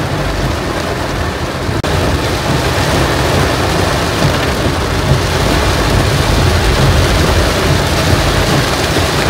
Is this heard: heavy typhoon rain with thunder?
yes